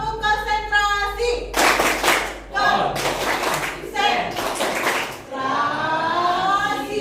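A classroom of children performs a rhythmic concentration clap, loud bursts of clapping in short patterned groups alternating with a teacher's voice and chanted responses.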